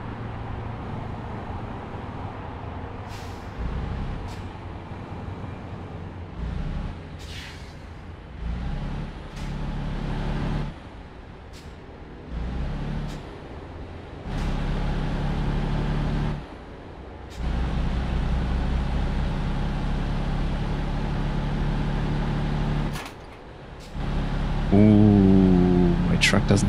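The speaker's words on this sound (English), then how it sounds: "Come on, overtake me. I want to hear your engine." A heavy truck engine in Euro Truck Simulator 2 rumbles and drones, rising and falling as it passes, with gaps between stretches and a voice talking over it.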